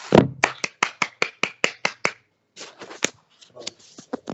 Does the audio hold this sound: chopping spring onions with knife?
no